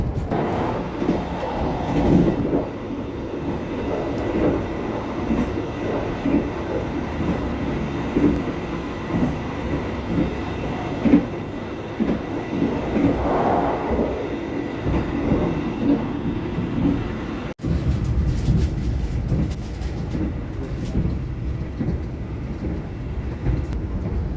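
An Argo passenger train travels at high speed on the Bandung to Surabaya line, heard from inside as a steady loud rumble with rhythmic wheel clatter and a brief jolt partway through.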